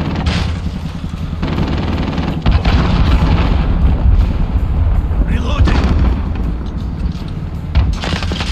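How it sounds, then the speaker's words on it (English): A cruise missile strike in the Call of Duty Modern Warfare video game, with a loud, sustained rumbling blast that continues over steady battlefield noise and gunfire. "Allied cruise missile launched."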